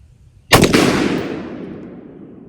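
A single .223 rifle shot from a 7.5-inch barrel, firing a Speer Gold Dot 55-grain bonded soft point into ballistic gel, cracks loud and close and then rings out in a long, fading echo.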